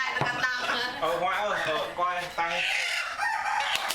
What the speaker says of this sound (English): Here he is hitting the chicken with a stick.